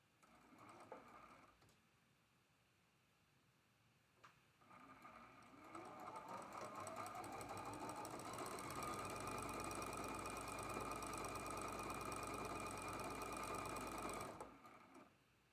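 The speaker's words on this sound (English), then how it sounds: "sewing with a 1/4" seam all the way from top to bottom with a 1/4" seam allowance" A sewing machine runs steadily for about ten seconds, stitching a quarter-inch seam along the raw edge of a quilt block from top to bottom. Its motor hum is loud and close, with a quieter lead-in before it.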